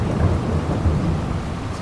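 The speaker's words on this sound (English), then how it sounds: "this rain is so loud" Loud rain and rolling thunder in Farming Simulator 22: a heavy, constant downpour roar with deep low rumbling underneath, steady and enveloping from start to finish, with no speech.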